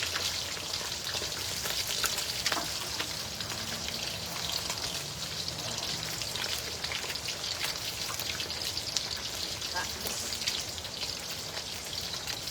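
Hot oil crackles and spatters continuously while frying fish, a dense sizzling hiss with sharp pops throughout, close by and without talk.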